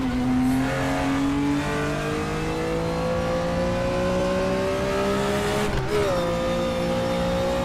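A Nissan race car in the Raceroom racing game roars past with a loud, steady engine note that climbs in pitch as it accelerates by, then drops at the pass, with no talking over it.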